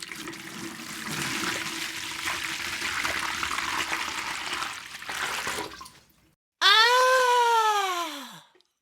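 Tap water running while hands are washed, a steady rushing stream for about six seconds that cuts off abruptly, followed by a loud, descending squealing cartoon-like tone.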